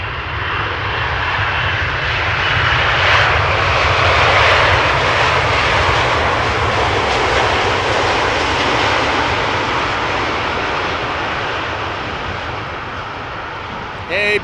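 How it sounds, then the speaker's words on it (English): A Boeing 777-300ER lands at Amsterdam Schiphol after a long flight from Lima, Peru, its engines a loud, close roar that swells to a peak midway and gradually fades, with a brief voice right at the end. "777-300ER arriving from Lima in Peru"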